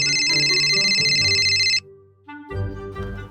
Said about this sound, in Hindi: किसको फोन आगो